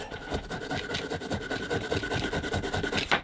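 A wire brush scrubs dismantled engine parts soaked in carb cleaner, giving fast rhythmic raspy strokes close to the microphone, repeated evenly for several seconds.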